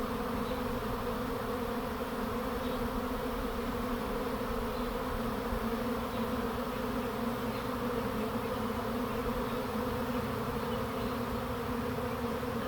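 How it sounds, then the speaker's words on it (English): A massive honeybee swarm in a south central Pennsylvania backyard fills the air with a steady, dense buzzing that surrounds the listener at close range, continuous and unbroken for the whole stretch with no talking. "Kind of getting covered up in bees standing here."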